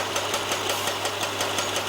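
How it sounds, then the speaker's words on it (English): Construction noise from building drills and pile drivers: a fast, steady run of mechanical knocks and pulses over a constant low engine hum, continuous and fairly loud, with no voices. "building drills and pile drivers,"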